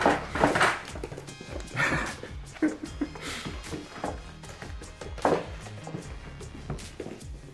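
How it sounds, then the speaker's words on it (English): An 8-week-old black Labrador puppy gives a few high, yappy barks and whimpers amid shuffling, thumping movement, with people's voices mixed in close by. "He barked! His first bark!"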